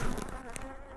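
Dense, steady insect buzzing of many honeybees swarming close by, a continuous droning hum without any talking.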